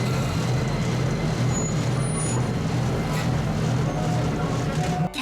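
A small Iyo Railway Botchan Train, a locomotive-styled car pulling one passenger coach, pulls into a station with a low steady rumble and hiss, moderately loud throughout.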